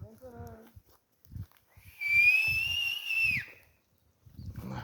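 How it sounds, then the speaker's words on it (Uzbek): A bright, sustained whistle tone plays for about a second and a half, added as a sound effect over a mountain nature scene, with a brief animal-like call before it and people talking quietly around it. "ana shu joyiga hushtakcha qo'yib yuboraman-da videoga"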